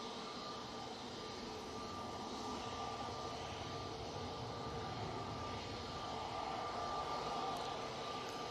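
A Jet2 Airbus A321neo at Manchester Airport makes a steady, broad engine roar that holds at an even level throughout, heard from a distance with no voices.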